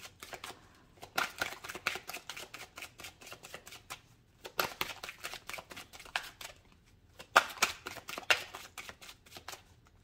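A deck of oracle cards is shuffled by hand in three quick bursts of rapid, crisp flicking and riffling separated by short pauses, fairly soft and close, with no voices.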